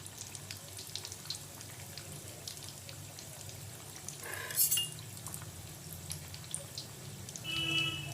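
Egg chops frying in hot oil in a home kitchen, a steady low sizzle running throughout with a brief brighter splash and clink near the middle and again toward the end, no talking.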